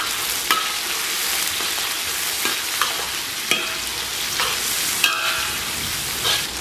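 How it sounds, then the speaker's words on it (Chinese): Ginger, scallions, garlic, chili sauce and bean paste stir-fry in a hot wok, a steady close sizzle broken by sharp spatula scrapes and taps at irregular intervals. "煸炒出香味以后，咱们给里边来点辣椒酱"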